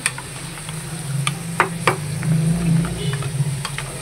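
Cornflour mixture being stirred into chicken jalfrezi in a hot pan, with a low steady sizzle under repeated close scraping and tapping of a spoon against the pan.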